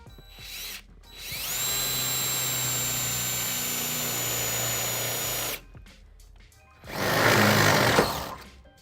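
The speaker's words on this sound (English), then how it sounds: "I'll be using 3/8 drill bit to drill a hole into the rear frame of the vehicle." A power drill with a 3/8-inch bit whines steadily for several seconds at high speed, pauses, then grinds again in a harsher, louder burst into the rear frame of a 2011 Ford Edge, close by.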